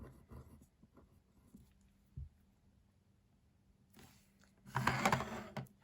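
A pen writing numbers on paper while working out a cone volume problem: faint, scratchy strokes in a quiet room, with a louder burst of rubbing scratches near the end.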